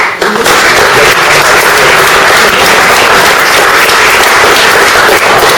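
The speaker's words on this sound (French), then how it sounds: "mais qu'on peut applaudir" An audience at a birthday show applauds loudly and continuously, a dense wash of clapping that runs throughout without a break.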